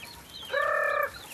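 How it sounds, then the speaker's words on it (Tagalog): A pet chicken lets out a single loud, drawn-out squawking cluck at close range, with faint chirps and clucks from other birds in the yard around feeding time. "pakain naman natin yung ating mga alagang manok din sa likod"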